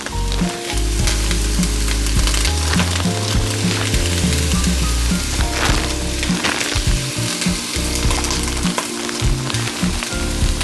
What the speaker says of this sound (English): Now you're going to want to cook your carrots and your onions and also your celery over here